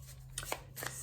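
Tarot cards shuffled by hand during a reading in a quiet room, two or three short crisp riffles with a faint hum underneath.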